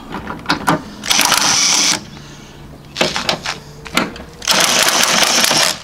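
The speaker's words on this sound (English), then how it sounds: "Switch to the electric ratchet" An electric ratchet spins out 10mm transmission mount bolts on a 2005 Toyota Corolla CE: two sustained buzzing motor runs, each about a second or two long, with sharper clicks and handling noises between them, close and fairly loud.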